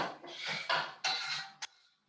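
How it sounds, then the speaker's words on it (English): Dhal with a little salt is stirred in a pot, a spoon scraping and knocking against the metal sides in a few close strokes, ending with a sharp clink. "going to give that a stir"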